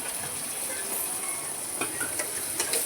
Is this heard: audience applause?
no